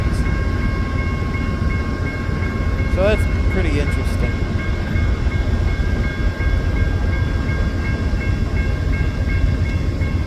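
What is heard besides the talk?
Amtrak train with Metroliner and Viewliner cars passing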